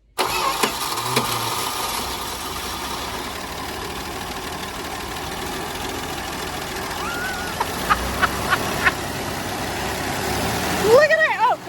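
A Dodge Dart that has sat unused since 1992 cranks over with a steady, loud starter whir, then fires and catches near the end, its engine revving up, recorded close with no talk over it.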